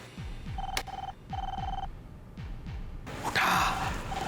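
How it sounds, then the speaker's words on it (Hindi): A telephone rings in repeated electronic bursts, three distinct rings with short gaps, fairly close and clear over a low background rumble. "घंटी बजाइए।"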